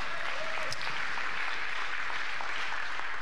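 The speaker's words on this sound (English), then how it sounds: "you can give her a round of applause." Applause from a church congregation during a Saturday worship service, a fairly quiet, steady patter of many hands clapping throughout, heard at a distance in a large room.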